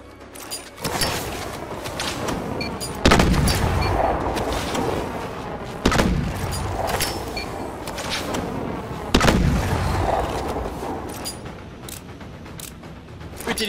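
Grenade training in Call of Duty: Advanced Warfare on Xbox One: heavy booming explosions go off about every three seconds, each a loud sudden blast that rolls off into a long rumbling decay, with no voices.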